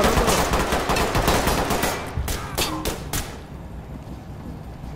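Gunfire in the tactical shooter Ready or Not comes as loud rapid bursts of shots early on, then a few separate cracks that thin out toward the end of the short stretch.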